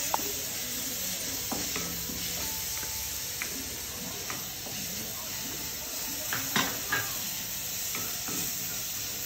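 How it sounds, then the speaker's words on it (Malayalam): Ginger paste sizzling and frying in a hot pan while being stirred, with a steady hiss throughout and occasional scraping clicks of the spoon against the pan. "ഇനി നമ്മൾ ഇഞ്ചി പേസ്റ്റ് ഇടാൻ പോവുകയാണ്."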